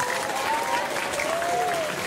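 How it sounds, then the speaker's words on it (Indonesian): Applause honouring the flag ceremony officers at a junior high school Independence Day ceremony in Indonesia, a steady, even wash of clapping from a crowd lasting about two seconds, with a faint tone drifting over it. "Kita beri aplaus untuk mereka"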